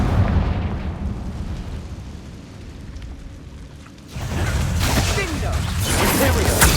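Confringo spell explosion in the video game Hogwarts Legacy, a loud burst that swells into a sustained rumbling blast over steady game noise, with a voice calling out the spell.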